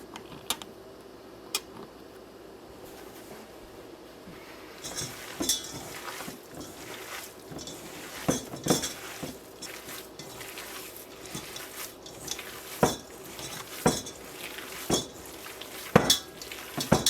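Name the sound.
mixing ground wild turkey sausage by hand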